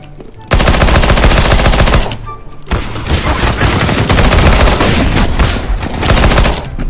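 Heavy automatic gunfire from a CS:GO competitive match, loud sustained bursts of rapid shots with a brief pause after two seconds before firing resumes.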